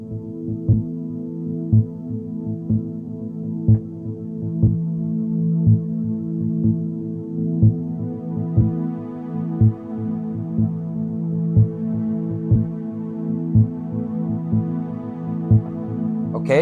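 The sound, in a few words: layered synth pad loops on RC505 loopstation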